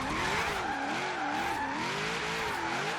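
A Camaro slides through a drift in Forza Horizon 3, its tires squealing in a steady, wavering whine over a loud, constant engine roar with no talk.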